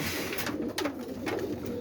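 Pet pigeons coo in a loose, repeated rhythm close by, soft throaty calls over a faint background hiss with no talking.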